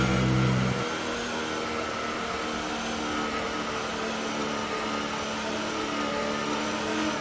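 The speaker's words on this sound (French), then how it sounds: "La voiture qui a l'air de s'être coupée." Simulated Formula 1 engine from the F1 2018 racing game, a Haas car losing power, heard from the onboard camera: a loud engine note drops out abruptly after the first second, leaving a steady broadband hum and whine with no voices.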